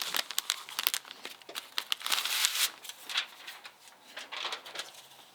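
Aluminum foil crinkles and crackles up close in irregular bursts of rustling, loud and alone with no talking.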